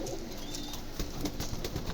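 Pigeons kept for sale coo softly at a market, low throaty calls repeating amid a busy hum of background noise, with a few brief wing or movement sounds and no talk.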